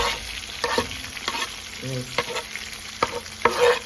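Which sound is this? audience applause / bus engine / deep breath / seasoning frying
seasoning frying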